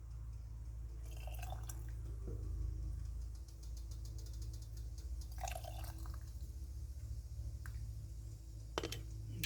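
Chicken broth pours into canning jars of homemade chicken soup, a soft liquid trickle and drip running under a steady low background hum, with a few faint clinks of glass.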